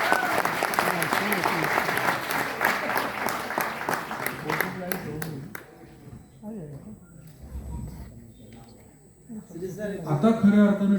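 A large audience at a Pune night event claps loudly and continuously for about five seconds, the applause thinning into scattered claps before a voice talks over quieter crowd background.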